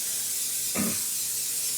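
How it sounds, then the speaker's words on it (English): A brief hiss of cooking spray onto a baking pan for savory egg frittatas, one short soft burst near the middle over a quiet room hum, no talk. "I'm going to spray it really well"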